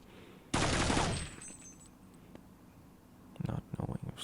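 Submachine gun fire in a 2003 Counter-Strike 1.5 tournament grand final, heard as one loud half-second burst of rapid shots, then a quieter stretch and a few short clicky bursts near the end.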